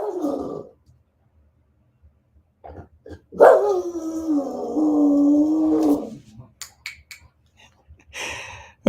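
A pet dog howls in a long, wavering drawn-out cry at fire trucks passing outside, preceded by a short yelp and followed by a few sharp clicks and a brief burst of noise; fairly close and loud.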